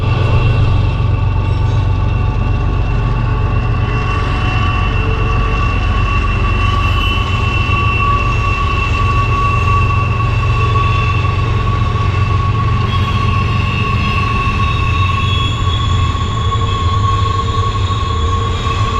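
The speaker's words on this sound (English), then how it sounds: "No shortage of trains." Trains pass near a West Virginia river campsite in winter, a loud, continuous rumble of rolling railcars with steady tonal wheel squeal running throughout, close by and with no voices.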